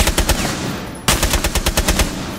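Automatic gunfire in the Rainbow Six Siege video game comes as rapid, loud, evenly spaced shots in two bursts with a short pause between, and no talking over it.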